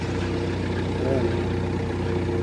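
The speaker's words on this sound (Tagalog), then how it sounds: "So start na natin yung makina." A machine engine with a blade runs at a steady idle, a continuous low droning hum that stays close and even throughout with no pauses.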